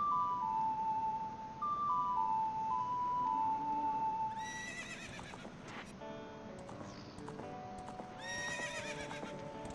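A horse whinnies in a video game with a synthetic tone, followed by clip-clopping hooves, over steady electronic background music.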